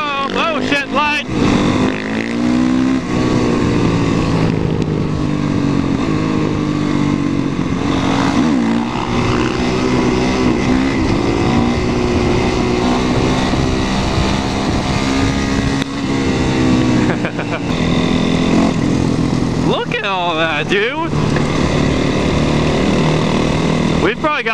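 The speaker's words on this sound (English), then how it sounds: "we've probably got like 100 bikes here" A large group of SBK motorcycles rides together on a road, their engines droning loudly and continuously with rising and falling revs as bikes pass close by. Riders talk over the engine noise.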